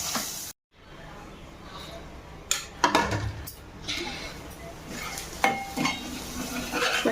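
A spoon scrapes and clinks in a pan as garlic cloves are stirred into a cooking masala curry with cashews and raw mango, irregular metallic knocks over a low sizzle after a short silent gap.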